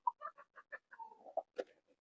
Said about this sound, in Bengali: এই ঘরে কিছু মুরগি আছে, এই যে দেখেন এরা মারামারি করতেছে